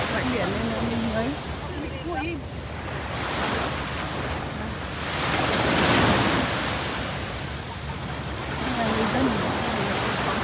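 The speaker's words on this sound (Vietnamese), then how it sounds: "thì mình cứ đi bãi biển này" Waves wash onto a beach at Phu Quoc, Vietnam, a steady roar of surf swelling and receding with strong wind buffeting the microphone, while people talk faintly in the background.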